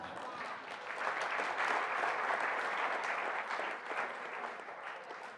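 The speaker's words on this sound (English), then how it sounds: "Now, she deserves the applause." Sustained, even audience applause fills a teacher talk, steady dense clapping from a sizeable crowd that holds at moderate loudness throughout, with no speech over it.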